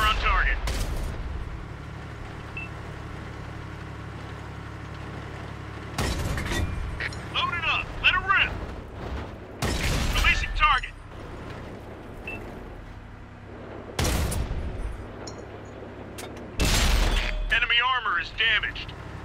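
Tank cannon shots in World of Tanks, Soviet T-54 in a one-versus-eight battle: several loud, sharp booming blasts spaced a few seconds apart, each with a crackling tail, over a steady engine rumble and occasional voice.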